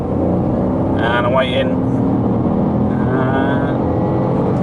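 A 2013 Ford Focus EcoBoost in second gear pulls under full throttle, its engine drone steady and loud from inside the cabin, while someone talks briefly over it.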